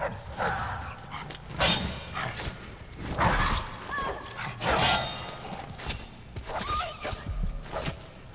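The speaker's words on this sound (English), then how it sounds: "That was a dog." A dog in Dishonored 2 barks in a few short, gruff yelps amid scuffling combat noises and game sounds, moderately close but partly masked by the surrounding clatter.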